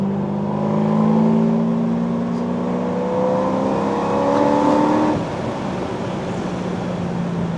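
A Corvette C6 ZR1 pulls hard along a canyon road, its engine note climbing steadily through a long rising sweep before easing off, loud and close throughout with no voices.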